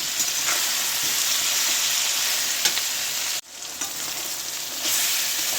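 Onions frying in a pan with salt, a steady loud sizzle throughout, briefly dropping out mid-clip as the pan is stirred, then resuming with occasional scrape clicks.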